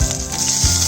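Cumin seeds crackling in hot oil in a pan with green chilies, a steady close sizzle that flares briefly near the end, with no talking.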